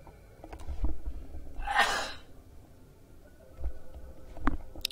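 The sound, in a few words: sneeze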